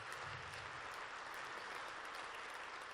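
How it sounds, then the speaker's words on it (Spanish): Sustained applause from a seated audience at a conference panel on Ibero-American cooperation, a dense, even patter of many hands clapping at moderate distance with no voices over it. "un aplauso para los colombianos."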